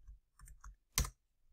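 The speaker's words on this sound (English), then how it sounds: "I'm literally typing in the word count" A few quiet, separate keystrokes tap on a computer keyboard while a formula is entered into an Excel spreadsheet, ending in one sharper, louder click.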